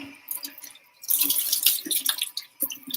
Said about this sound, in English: That's just my sink running.